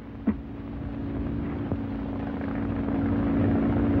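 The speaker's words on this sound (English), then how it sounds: "Those planes are going to take us back home" Aircraft engines drone overhead in a steady low hum that slowly grows louder, with a couple of faint knocks near the start.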